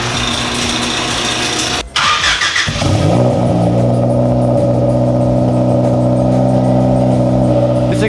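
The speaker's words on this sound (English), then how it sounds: "Exhaust sounds pretty good." A Honda EG hatchback with a straight-pipe exhaust and a turbo screen fitted revs loudly and steadily at close range, a brief cut near two seconds before a sustained, droning idle-to-rev roar, with a slight rattle of something loose.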